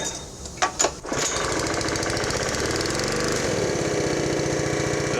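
A Honda GX140 engine on a gas-powered air compressor starts after a few knocks and then runs with a loud, steady, rapid chugging close by.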